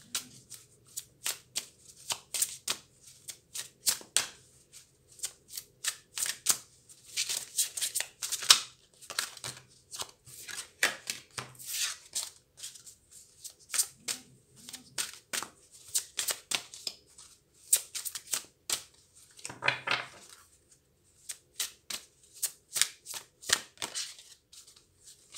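Tarot cards shuffled and handled for a three-card spread, with a long run of crisp riffling and flicking bursts and steady close-up card slaps and shuffles, with no speech.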